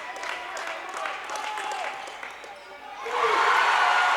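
A crowd in a high school girls' basketball gym cheers and claps after a clutch free throw, the noise swelling loud near the end under a commentator's voice.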